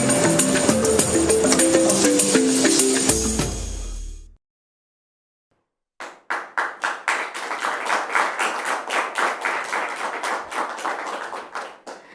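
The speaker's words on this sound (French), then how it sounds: "Les applaudissements sont des applaudissements nourris" A studio audience claps at the opening of a French-language TV programme: music ends abruptly, a short silence follows, then steady rhythmic clapping in unison builds for several seconds.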